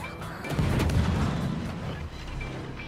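Naval guns firing in World of Warships from the destroyer Akizuki: a deep, rolling boom with a heavy low rumble that swells and slowly fades, fairly loud and without speech.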